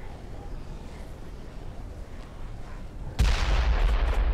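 Gunfire in the video game Dead Island: quiet background ambience, then an abrupt loud burst of shots near the end that sustains as a dense, booming roar.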